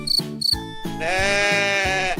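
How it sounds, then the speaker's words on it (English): A goat bleats close by: two short, sharp calls followed by one long, wavering bleat, loud and alone with no voices. "Goat."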